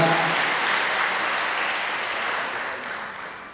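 Loud applause from the audience at a volunteer medical training session held at Nong Nooch Garden in Pattaya, a dense wash of clapping that starts strong and slowly tapers off.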